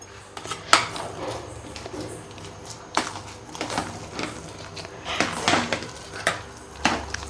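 Cooked rice for milk rice being mashed in a pot with a utensil, irregular clinks and scraping knocks against the metal, close and moderately loud, with brief pauses between strokes.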